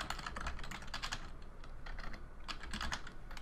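Quick, irregular clatter of keys on a computer keyboard during game development work, close and fairly quiet, in bursts of rapid taps with no voices.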